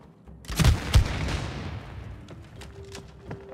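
Gunfire in the co-op video game It Takes Two: two loud booming shots up front, then a scatter of sharper, fainter shots and pops through a lingering rumble.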